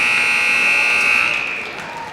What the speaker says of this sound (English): And here's the buzzer.